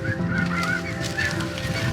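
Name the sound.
snow geese honking overhead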